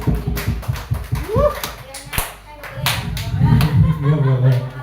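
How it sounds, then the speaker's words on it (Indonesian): An audience at a school teacher-training session claps in scattered bursts, with voices talking loudly over and between the applause at close range. "Tepuk tangan untuk Bu Dewi."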